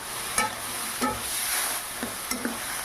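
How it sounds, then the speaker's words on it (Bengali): Boiled peas and potato are stirred and fried in a pan for Bengali ghugni. A low, steady sizzle runs throughout, and a spoon scrapes and knocks against the pan every so often, faint and close. "এইভাবে বেশ কিছুক্ষণ ধরে নেড়ে ছেড়ে কষিয়ে নেব"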